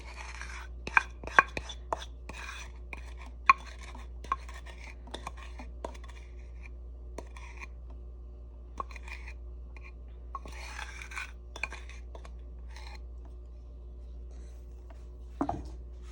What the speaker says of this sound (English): I am going to stir it in. I'm gonna scrape up my bowl.